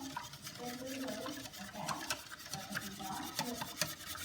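A whisk stirs lemon curd filling in a pot, giving a steady scraping, rasping churn with irregular clinks against the metal, close and fairly quiet throughout.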